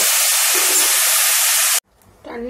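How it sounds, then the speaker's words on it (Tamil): A loud, steady rushing hiss of water vigorously boiling in a cooking pot fills most of the clip, then cuts off abruptly, leaving faint clatter. "தண்ணி நல்லா கொதி வந்துடுச்சு."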